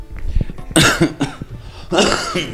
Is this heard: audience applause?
no